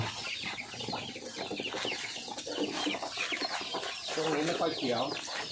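Chickens clucking on a small Thai rural farm where ducks and chickens are kept, scattered soft clucks and calls at a modest distance under a voice.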